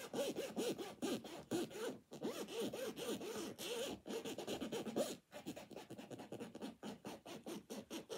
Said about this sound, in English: Let's hear the zip. Let's hear what it sounds like,